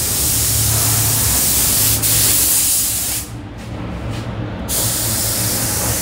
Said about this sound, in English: okay, so now spraying.